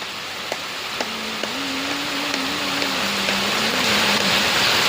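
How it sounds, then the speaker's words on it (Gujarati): Steady broadband hiss of heavy rain pouring without pause, with occasional louder drips or knocks and a low droning hum running beneath. "આ વરસાદ તો ચાલુ છે, આવામાં કંઈ થાય નહીં"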